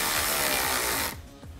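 A tool tightens the intercooler coupler clamps while a Mishimoto front-mount intercooler kit is fitted to a 2015-2018 Ford F-150 EcoBoost, giving a brief, close, continuous whirring ratchet burst that stops abruptly.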